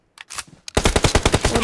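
Rapid automatic gunfire from the video game PUBG, a quick string of sharp shots after a few faint clicks, loud and close, with no talk over it.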